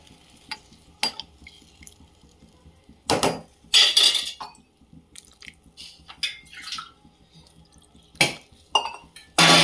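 Water is poured into a cooking pot of drumstick (moringa pod) gravy, Savji style, with sharp metallic clinks of a utensil against the pot, splashy bursts and scattered drips, close and intermittent.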